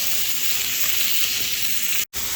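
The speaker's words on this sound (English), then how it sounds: "Now we're just trying to sear off that fat cap." The fat cap of a steak sears on a Blackstone griddle greased with bacon fat, a loud, steady, close sizzle with no letup until a brief cut near the end.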